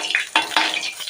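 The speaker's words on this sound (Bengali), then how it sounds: "মাছগুলোকে আমি লাল লাল করে ভেজে নিই" Pieces of katla fish fry in hot salted oil in a pan, giving a close, crackling sizzle with several sharp bursts of spattering over a short stretch.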